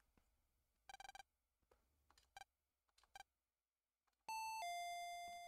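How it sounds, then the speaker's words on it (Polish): A two-tone doorbell chime rings out clearly in Mega Man Battle Network 3, following a few soft electronic blips, then a bright, sustained ding-dong ending the clip. "Ding dong."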